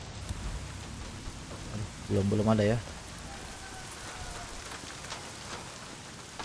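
Rain falling steadily in the video game Days Gone, a constant even hiss of drops across the whole stretch, with a voice speaking briefly over it.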